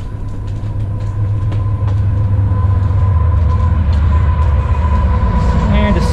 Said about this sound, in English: And a CSX train coming through on the main line here.